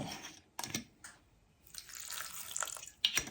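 Water is poured into a blender jar for grinding a homemade sauce with vinegar, a short splashing trickle after a few clinks, with quiet pauses in a home kitchen.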